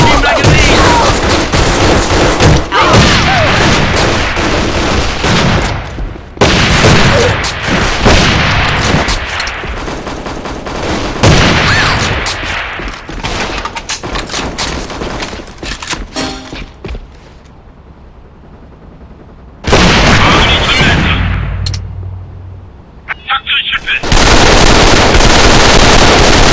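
Heavy gunfire from the online shooter game AVA (Alliance of Valiant Arms) on an airplane map, with loud bursts of automatic fire and dense volleys broken by short quieter gaps, at close range and full volume.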